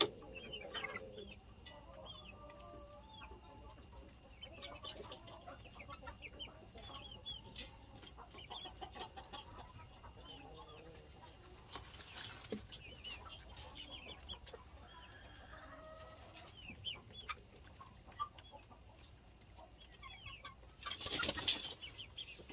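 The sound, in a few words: chickens clucking on a farm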